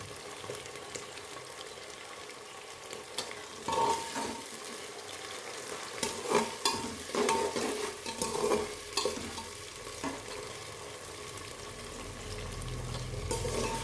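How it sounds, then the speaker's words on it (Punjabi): Potatoes and onions roast in a pan for matar pulao, a low sizzle under repeated spatula scrapes and stirring knocks that cluster in the middle, then ease back to quieter frying. "ਹੁਣ ਆਪਾਂ ਇਸ ਨੂੰ ਚੰਗੀ ਤਰ੍ਹਾਂ ਹਿਲਾ ਦੇਵਾਂਗੇ ਤੇ ਤਿੰਨ ਤੋਂ ਚਾਰ ਮਿੰਟ ਲਈ ਇਸ ਨੂੰ ਭੁੰਨਣ ਦੇਵਾਂਗੇ"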